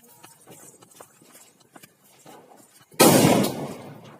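A gorilla bomb firecracker bursts outdoors at a Diwali celebration: one loud, sharp blast after a few seconds of quiet background noise, then a decaying rumble.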